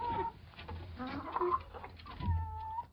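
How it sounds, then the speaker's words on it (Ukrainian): A rooster clucks and calls nearby, a few short throaty bursts with a brief drawn-out cry near the end. "О, дивіться, навіть півник прийшов."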